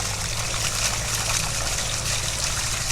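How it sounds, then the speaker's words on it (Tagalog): Strong water flows without pause, a loud, steady rushing and trickling that fills the whole moment, with a low hum underneath and no one speaking. "Awan Diyos guys, yung tubig ganun pa rin. Ano pa rin siya. Malakas pa rin."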